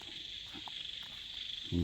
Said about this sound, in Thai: เสียงเขียดเสียงจิ้งหรีดร้องนะครับ